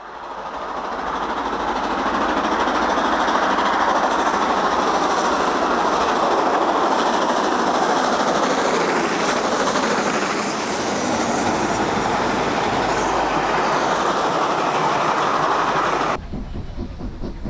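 Two Stanier Black 5 steam locomotives double-heading a train, a loud, sustained roar of working engines and rolling stock with steady rail clatter, continuous for most of the stretch before cutting away abruptly near the end.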